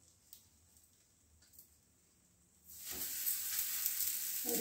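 A corn and cheese paratha sizzles in a hot pan, quiet at first and then breaking into a loud, steady frying hiss for the last couple of seconds.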